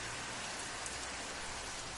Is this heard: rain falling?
yes